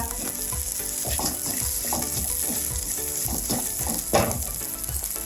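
Lentils, split dal and cumin seeds fry in a hot pan while a spoon stirs through them, making a steady close sizzle with soft scraping and clinking throughout.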